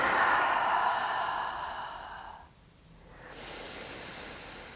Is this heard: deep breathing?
yes